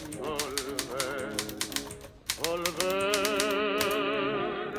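Keys clack in quick succession on a 1936 Underwood Universal typewriter with concave chrome-plated keytops, rhythmic metallic strikes over a tonal hum that swells partway through, with a voice faintly present.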